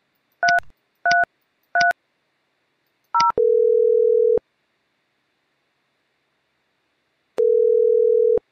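Call tones on a Mitel 5312 IP phone: three short two-tone dial beeps and a fourth, then a steady ringback tone for about a second, a pause, and a second ringback burst, clear and alone.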